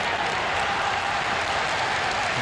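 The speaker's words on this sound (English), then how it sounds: "Applause rings around the Bukit Jalil Stadium" Football crowd applauding at Bukit Jalil Stadium during a Malaysia versus Japan under-16 match, a broad, steady wash of distant clapping from many fans filling the stands.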